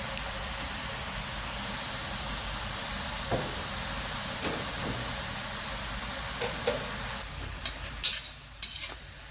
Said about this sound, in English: so we're just going to let it sizzle for a few minutes